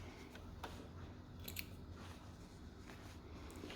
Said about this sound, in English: Again, just trimming threads.